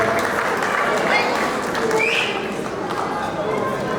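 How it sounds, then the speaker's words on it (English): Guests at a Samoan and Nigerian wedding applauding, continuous crowd clapping with voices and cheering mixed through it. "A round of applause, ladies and gentlemen."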